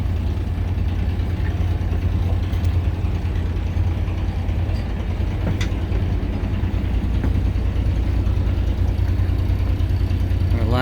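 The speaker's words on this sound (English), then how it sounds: "both motors fired up" The sailboat SV Jus Dreaming runs both of its motors at idle, a steady low drone that holds even and unbroken from start to finish, with no voices over it.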